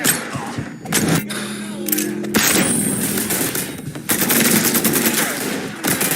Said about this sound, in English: He's unloading on us! Firing on that piece!